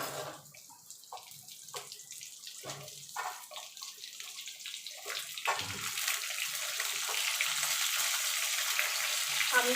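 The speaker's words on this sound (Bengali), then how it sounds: "আমগুলো দিয়ে মিনিট দিয়ে একটুখানি ভাজা ভাজা করে নেবো।" Mango pieces are dropped into hot oil seasoned with a dried red chilli and five-spice, starting a soft crackle that swells into a steady, loud sizzle.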